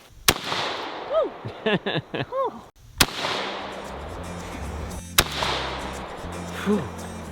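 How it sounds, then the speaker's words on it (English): Three sharp shotgun blasts fired outdoors, spaced irregularly, each with a decaying echo; between the first two shots a few brief voices and whoops are heard, with a faint low engine hum later. "First time shooting a shotgun, Jason?"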